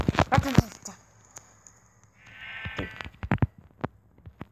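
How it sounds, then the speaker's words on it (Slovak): A sheep in the Minecraft Pocket Edition video game lets out a single mid-volume bleat between bursts of a man's nearby speech. "Kde je tá ovca, čo som tu videl?"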